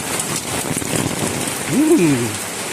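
Heavy rain pours steadily as a constant broadband wash, with a person speaking briefly over it near the end.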